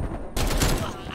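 A burst of rapid gunfire in Call of Duty: Black Ops Cold War, loud and close, starts abruptly after a brief quiet moment and carries on as a dense, crackling volley.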